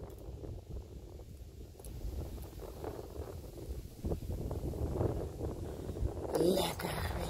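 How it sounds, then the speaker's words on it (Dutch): Wind gusting outdoors in muggy weather near a balcony, a low rumbling rush of wind noise that swells and builds toward the end. "Het begint ook lekker te waaien nu weer."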